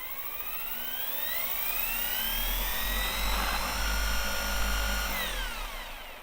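Genesis Hellfire electric scooter motor running unlocked, a high whining electric drone that climbs steadily in pitch, holds at a fast speed, then winds down, heard close and alone.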